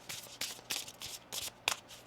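A deck of tarot cards being shuffled by hand, with quick bursts of riffling and snapping repeating about five times close to the microphone, quiet and with no voices.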